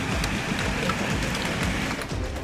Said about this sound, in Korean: 캔버라인 골프공 크기의 우박이 쏟아졌습니다.